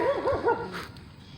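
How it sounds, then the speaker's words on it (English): A pet dog on a walk outdoors gives a quick series of short, whiny yips and barks, close and moderately loud, lasting just over a second. "Just out here walking my dog."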